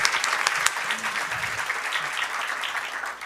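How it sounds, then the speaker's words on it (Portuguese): Audience applause at a Brazilian political campaign launch event, a moderate patter of clapping heard alongside faint talking in the room. "ó, salva de palmas para a terceira idade."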